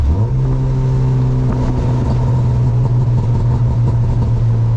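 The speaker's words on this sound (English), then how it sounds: "It sounds like a turbo almost. That's the intake." A modded Honda Civic hatch with an H2B swap revs from inside the cabin, its intake giving a loud, steady, droning hum that rises quickly and then holds, close and continuous with no voices.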